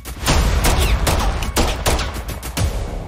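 Rapid bursts of loud gunfire in a dramatic movie scene, several sharp shots crowding together in quick succession, close and dominant with no speech over them.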